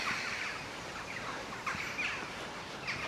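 Birds calling outdoors during a countryside walk, a few short chirps and gobbling calls popping out over a soft, steady background hiss, fairly faint and somewhat distant.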